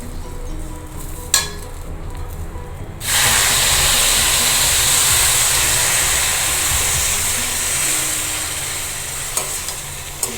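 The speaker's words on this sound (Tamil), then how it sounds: "இப்போ தண்ணி நல்லா கொதிக்கிற தண்ணியை விடுங்க" After a quiet moment, a loud hiss and sizzle erupts as boiling water hits a hot pan, continuing as a steady steamy bubbling with occasional clinks.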